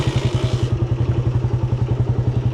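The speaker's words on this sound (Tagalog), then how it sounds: "So papainitin lang muna natin yung makina ng kahit na 1 minute." A Raider 150 motorcycle engine warms up at idle close by, with a steady, fast, loping pulse and a mechanical clatter running throughout and no talk.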